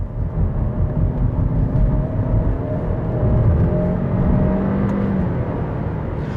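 A Lexus NX200t's 238 hp turbocharged petrol engine revving, a loud, close, low-pitched engine drone that swells and holds with rising tonal whine, no talk.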